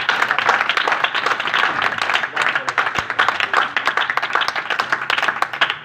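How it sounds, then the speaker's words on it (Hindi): An audience at a Christian ministry gathering gives loud applause for four brothers: dense, sustained clapping from many hands, steady and close throughout, with a few voices faintly mixed in. "इन चारों भाइयों के लिए एक बार जोरदार ताली"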